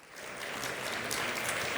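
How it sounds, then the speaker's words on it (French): A conference audience breaks into dense, steady applause, clapping building quickly and holding at full strength for a couple of seconds with no talk over it. "sous vos applaudissements, s'il vous plaît"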